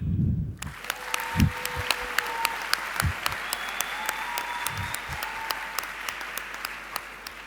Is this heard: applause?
yes